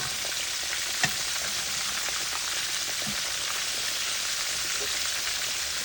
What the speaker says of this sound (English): So let that fry on that side for a little while.